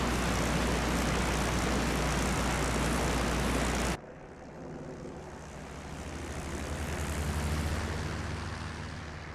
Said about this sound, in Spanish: El motor se ha quemado, chicos.